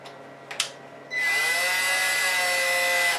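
A power drill bit works through thin polystyrene plastic for a conduit hole in a junction box. After a couple of faint taps, the tool spins up into a steady, high, whining drone that holds close and constant.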